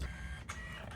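A small home printer runs through a print job, giving a continuous low mechanical whir and rattle at fairly low volume, with no voices.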